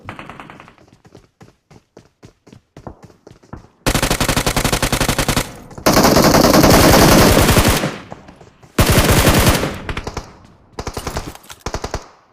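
Automatic gunfire from shooting an enemy in the video game BGMI: rapid bursts of close, loud shots, first a string of short spaced rounds, then long sustained volleys broken by brief pauses.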